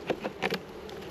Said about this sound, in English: I will just check those last few frames to see how many bees are actually on them